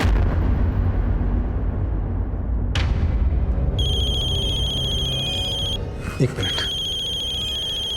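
A phone rings with a steady electronic ringtone that repeats in two bursts over a loud, droning dramatic background, while someone speaks briefly.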